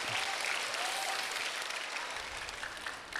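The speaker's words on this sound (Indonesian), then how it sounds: "Tepuk tangan buat Roy aja nih." An audience of university students applauds for a student named Roy at a campus discussion in Kuningan, West Java, a steady, dense wash of clapping held at even loudness throughout, with a few faint voices mixed in.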